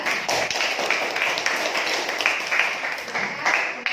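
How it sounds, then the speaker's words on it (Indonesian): Classroom of junior high students clapping for a presenting group, a moderately loud burst of mixed claps with a few sharper individual slaps standing out, continuing steadily for several seconds. "Iya, tepuk tangan untuk kelompok 3."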